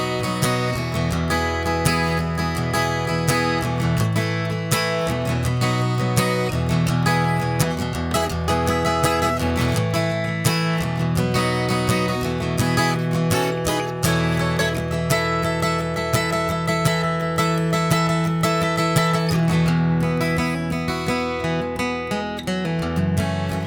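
Acoustic guitar strums a chorus chord progression, steady rhythmic strumming, close and even in level, with no talking.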